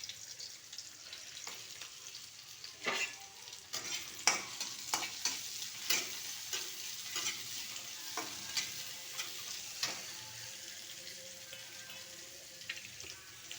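Washed onions fry in hot oil for mango upma, a steady sizzle broken by repeated scraping stirs of a spoon in the pan, fairly close and without speech.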